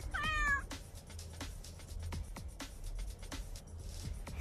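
A cat meows in a video game, one clear rising-falling meow at the start over a low steady background hum, followed by light repeated clicks and soft game noises.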